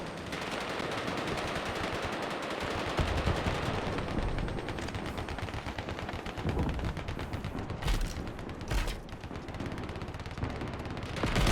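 Rapid, sustained automatic gunfire from a Marauder mech in the Starship Troopers video game, a loud continuous rattle of shots with heavy booms running the whole time and brief gaps near the end.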